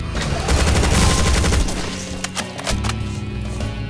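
Chaingunner fire in Doom 2 with the Project Brutality mod, a loud dense rattle of rapid gunshots with a short break midway before the burst resumes, no talk over it.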